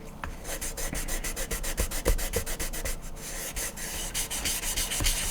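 Close, rhythmic scratchy strokes of sandpaper rubbing a plastic Star Trek model kit to remove a number and smooth its edges, repeating quickly and steadily with slight pauses and no talking.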